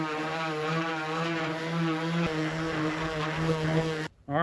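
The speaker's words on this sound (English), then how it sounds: "So running the sander over, it's just going to give it a nice smooth finish" An electric sander runs over a homemade camping griddle plate, smoothing off burrs with a steady, loud motor drone that holds evenly for about four seconds before cutting off abruptly near the end.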